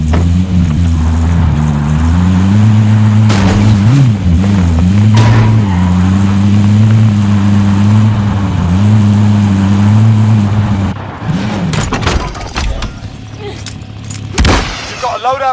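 A vehicle engine drones loudly in Call of Duty Warzone, its low hum rising and falling in pitch as the car drives and revs for about eleven seconds, then fades into sharp gunfire bursts and impacts.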